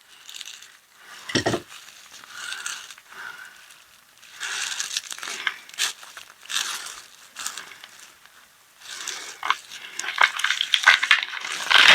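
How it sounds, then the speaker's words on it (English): Wrapped Mythic Battles Isfet Duat game cards being opened, with close crinkling and tearing of plastic wrap coming in uneven bursts, growing louder toward the end, and no talk. "zoom in a tad, and open up these cards"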